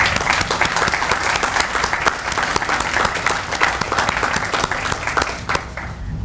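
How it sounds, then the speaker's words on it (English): Audience applauding event organizers and volunteers at a National Night Out kick-off ceremony, a dense, steady wash of many hands clapping that holds loud for several seconds before easing at the end. "and let's give them a round of applause."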